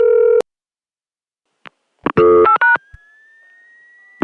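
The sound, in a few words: recorded telephone call dialing out through ESS office, with squeal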